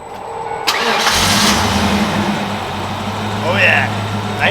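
A 1993 Ford Mustang 5.0 Foxbody cranks and fires up close by, then settles into a steady, rumbling idle, with people talking faintly over the engine.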